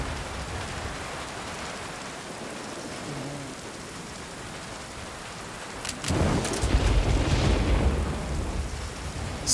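Steady heavy rain pours throughout in the video game Metal Gear Solid V: Ground Zeroes, with a loud rumble of thunder rolling in after about six seconds and lingering to the end.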